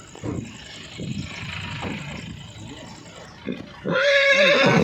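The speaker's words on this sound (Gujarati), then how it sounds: "જો ઘોડો કેવો અવાજ કરે" A loud, close horse neigh rings out near the end after a stretch of outdoor rumble and faint voices.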